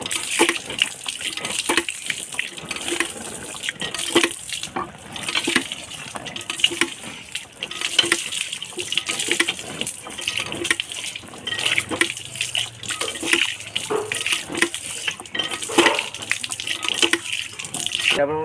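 Tap water runs and splashes into a sink while vegetables and banana leaves are washed in a kitchen, a continuous gushing stream with clatter and a few voices talking over it.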